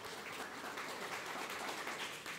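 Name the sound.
audience applause for artist Ilmar Kruusamäe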